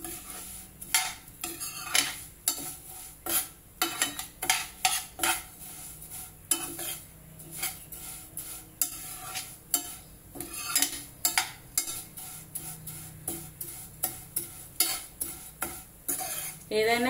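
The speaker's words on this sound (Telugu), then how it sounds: "ఇవి ఎక్కువ ఫ్రై చేయక్కర్లేదు ఫ్రెండ్స్, కొంచెం ఫ్రై చేస్తే చాలు," Food frying in a pan while a utensil stirs and scrapes it repeatedly, giving a steady sizzle broken by rhythmic metallic clinks and scrapes, close and fairly loud, with no talking.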